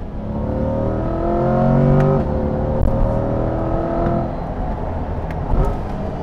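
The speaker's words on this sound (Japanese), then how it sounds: "G モードはもうすごいっすよ、本当にかなり強烈な音になります。" Mid-engine Chevrolet Corvette with a V8 in G mode roaring loudly and close, revs climbing in a strong sustained surge, briefly easing, then pulling hard again over about six seconds.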